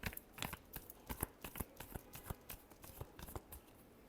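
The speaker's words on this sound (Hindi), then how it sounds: "last shuffle" Tarot cards shuffled in quick, steady riffles, a dense run of soft papery flicks and taps close by, fairly quiet and with no talk over it.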